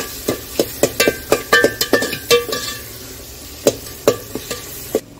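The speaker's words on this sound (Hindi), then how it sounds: "तो अभी इसमें हमने डाल दिए हैं मटर, इन्हें भी अच्छी तरीके से भून लेंगे।" Peas stir-fried in a pan, with a spatula tapping and scraping in quick irregular knocks against the metal over a soft sizzle, close and fairly loud.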